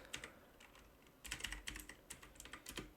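A command is typed on a computer keyboard: quick, close clicking keystrokes in irregular bursts, fairly quiet and with no voice over them.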